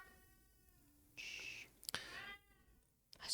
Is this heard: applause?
no